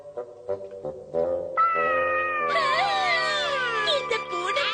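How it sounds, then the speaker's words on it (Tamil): A cartoon cat meows in a run of short calls, then draws out a long wavering whine, loud and close, in a Tamil-dubbed Shinchan cartoon scene. "இந்த பூனை பார்க்க எவ்வளவு அழகா இருக்கு."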